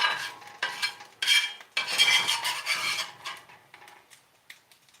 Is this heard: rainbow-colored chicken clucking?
no